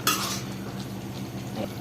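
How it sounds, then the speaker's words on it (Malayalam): Chicken biryani is being stirred in a pot as the chicken simmers and boils in its own gravy with no added water: a close, steady scraping and clatter of a utensil against the pot, sharpest at the start, over a low continuous bubbling. "ചിക്കൻ ഒന്ന് ഇടയ്ക്ക് ഒന്ന് ഇളക്കി നോക്കണം"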